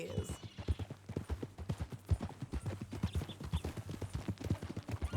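Horse hooves clip-clopping steadily in Red Dead Redemption 2, a quick regular rhythm of close, distinct hoofbeats with voices talking over them throughout.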